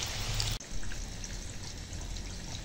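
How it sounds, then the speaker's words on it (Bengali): Steady rain falls on a rainy day while chicken pakoras are being fried, a constant close, even hiss of drops with a brief dip in the sound partway through and no voices. "এখন বৃষ্টি পড়ছে"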